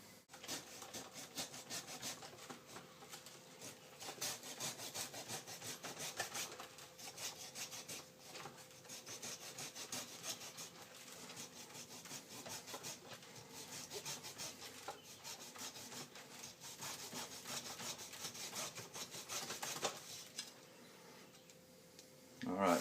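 A handsaw cuts sideways into the trunk of a bonsai tree under drastic pruning, a steady back-and-forth rasp of wood that holds on for about twenty seconds at close range before it stops.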